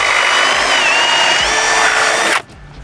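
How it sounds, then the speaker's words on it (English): A power drill with an auger bit whines loudly and steadily as it bores through a pre-drilled pilot hole, its pitch dipping slightly under load before it cuts off abruptly near the end. "we're just going to run this right through the 1/8 inch pre-drill"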